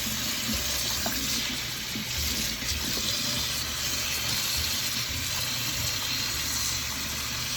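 Freshly harvested parsley is rinsed under a running kitchen tap indoors, a steady close splashing gush of water flowing without a break.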